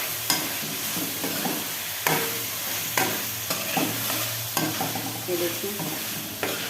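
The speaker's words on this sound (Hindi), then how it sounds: "आलू की 5 to 7 मिनट्स मैं इसकी भुनाई करूँगी" Potatoes being fried and stirred in a pan, a continuous loud sizzle broken by repeated scraping strokes at an irregular rhythm, with a brief spoken phrase.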